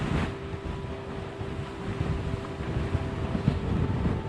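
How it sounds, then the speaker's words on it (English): A strong hurricane wind gust roars as broad, steady rushing noise with heavy low-end buffeting against the microphone, a constant blustery wash from start to finish with no talk. "that was a heck of a gust."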